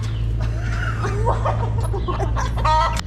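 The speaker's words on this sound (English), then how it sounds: "Chicken's on her little nest." A hen clucks on her nest, a string of close, irregular clucks and throaty murmurs over a steady low engine-like hum, ending in a brief louder burst.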